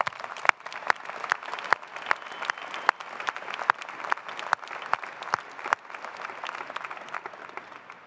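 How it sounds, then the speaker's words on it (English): A university audience gives a round of applause at Robert Morris University's honorary degree ceremony, a steady crackle of many hands with sharp individual claps standing out, sustained and evenly loud throughout. "Let's give this university a big round of applause."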